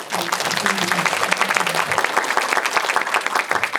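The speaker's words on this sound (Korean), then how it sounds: "이세영 배우님께 큰 박수 부탁드리고" Audience applause for actress Lee Se-young at a Korean film guest-visit screening Q&A, dense steady clapping filling the hall throughout, with a few brief voices mixed in early on.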